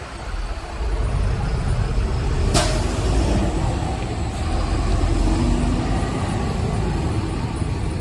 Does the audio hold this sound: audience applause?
no